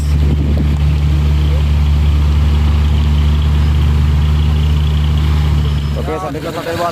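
A FAW trailer truck strains uphill, its heavy engine holding a loud, steady low drone throughout, with voices talking nearby toward the end.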